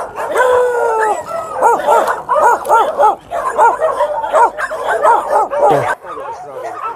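Several puppies at a rescue shelter for abandoned dogs in Haenam, South Korea, yip, whine and bark over one another in a lively, continuous chorus, loud and close, with a short quieter pause near the end.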